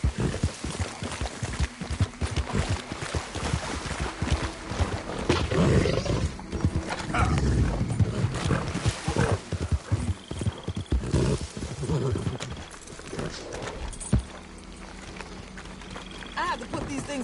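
Horse galloping in the video game Red Dead Redemption 2, heavy hoofbeats pounding steadily under a rider urging it on, with game ambience and occasional voices mixed in.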